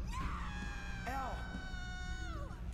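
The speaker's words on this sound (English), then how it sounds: "That was a funny scream." A creature in the video game Silent Hill: Homewrecker lets out a wavering, cat-like shriek with rising and falling wails, heard close over a constant low, noisy game background.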